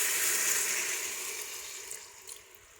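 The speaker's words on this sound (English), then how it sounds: "I'm going to add a little water" Water is poured onto well-seared beef in a Ninja multi cooker, a close hissing sizzle and splash that starts strong and fades over a few seconds, with small bubbling pops near the end.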